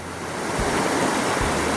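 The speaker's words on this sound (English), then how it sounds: "Okay, this is up above the waterfall." Water rushes loudly and steadily above a waterfall at a gold-mining site on Blewett Pass in Washington State, a broad, close roar with some wind buffeting the microphone.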